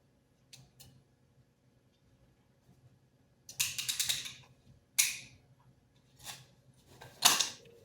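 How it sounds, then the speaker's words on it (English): Ratcheting crimp tool clamping a wire connector: a few faint clicks, then bursts of loud rapid ratchet clicking in three or four separate squeezes, close and alone. "Ratcheting crimp tool does a much better job than the hand pressure tools like these."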